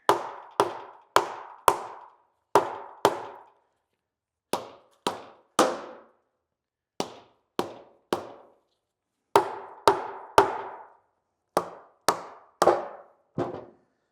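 A series of sharp, dull thuds from a dead blow hammer hitting a Go Devil L134 engine casting, struck in quick bursts of two or three with short pauses between, close and fairly loud.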